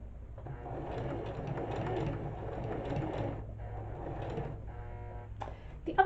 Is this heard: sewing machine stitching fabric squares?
yes